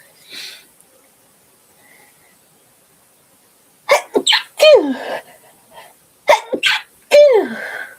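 A short sharp sneeze, then after a pause two more bursts in quick succession, each a loud nasal explosion close to the listener.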